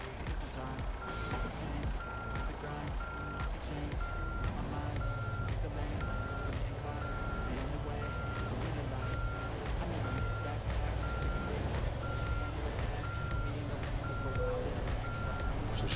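Euro Truck Simulator 2 truck in reverse, a steady repeating backup beep pulsing at an even rhythm over a low diesel engine rumble, with faint talk in the background.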